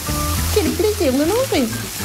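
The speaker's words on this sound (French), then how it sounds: "Et ça grésille." Fizzy popping candy crackles and sizzles steadily while being eaten, under a voice speaking in gliding, sing-song tones.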